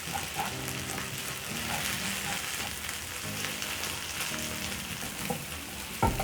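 Onions fry in butter in a pan for grilled cheese sandwiches and are stirred, making a continuous, even sizzle with faint crackle and a spoon scrape near the end.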